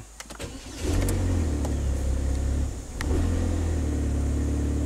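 A Chevy HHR with a sensor unplugged cranks and starts, then settles into a steady running idle, with a brief dip and second rev partway through, close by with a few clicks at the start and no talk.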